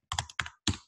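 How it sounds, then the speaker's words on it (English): Three quick bursts of computer keyboard typing while entering a web address, close and clear against silence. "you can do that by typing"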